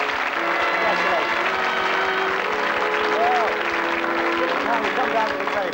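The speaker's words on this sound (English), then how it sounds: "Give me a round of applause." A studio audience at a 1980 music-hall-themed television game show applauds in a dense, steady wash of clapping lasting several seconds, with a voice speaking over it.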